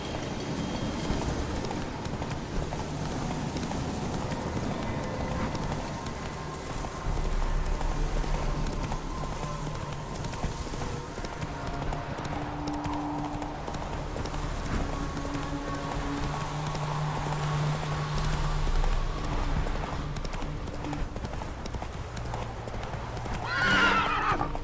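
Hoofbeats of the horse Roach clip-clopping in a steady galloping rhythm in The Witcher 3, with a few whinnies, over ambient game music and faint rain.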